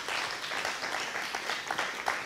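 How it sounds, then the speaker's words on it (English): Church congregation claps hands in praise during an evening service, a moderate, steady patter of many scattered claps blending into a soft applause wash, somewhat distant, with no clear speech over it. "Clap your hands and give God some praise tonight."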